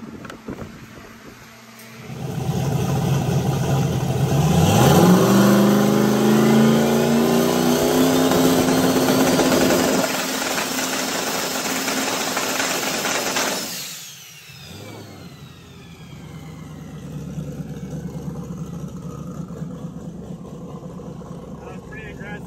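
Drag car engine during a trans brake test, idling then revving hard and rising in pitch for several seconds, holding high, then cutting sharply back to a rough idle; loud and close.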